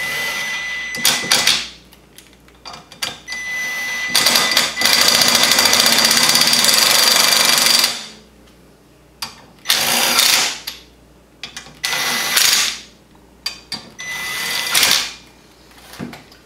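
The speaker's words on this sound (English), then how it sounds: "I'm going to use an impact, just a little small impact, just to run them in until they just touch" A small impact wrench runs bolts down on the CVT secondary clutch of a Wildcat Sport, in loud rattling bursts: short hits, one long run of several seconds, then more brief bursts separated by quiet gaps.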